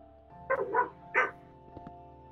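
A dog barks three times in quick succession at fireworks, then falls quiet over a steady low hum.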